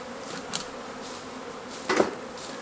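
Honeybees from a rescued colony hum steadily inside a nuc hive box, a close, even drone with a couple of brief knocks from handling the box.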